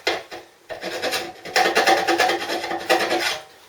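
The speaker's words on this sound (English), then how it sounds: "filing that into an oval" Metal being shaped into an oval with a hand file, in rhythmic rasping strokes that are close, loud and gritty, with brief pauses between passes.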